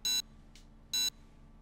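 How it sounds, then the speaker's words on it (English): Two sharp, loud electronic beeps from a Sonic video game sound about a second apart, each brief and piercing, with a faint click between them. "Oh, that's a sharp beep."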